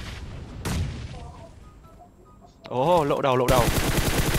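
Rapid gunfire bursts in PUBG Mobile during a three-squad firefight, sharp broadband cracks crowding the second half of the clip, with excited voices talking over and between the shots.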